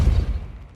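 A short, heavy Depulso spell blast from Hogwarts Legacy on PS5, a single low thump with a quick rumbling decay lasting under a second, loud and close.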